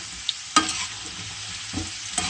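Potatoes frying in rendered pork fat (salo) sizzle steadily in a pan, broken by a few sharp scrapes from stirring, all close and with no speech.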